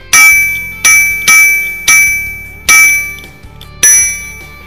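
A bicycle bell rings loudly six times in an uneven rhythm, each bright metallic ding decaying before the next.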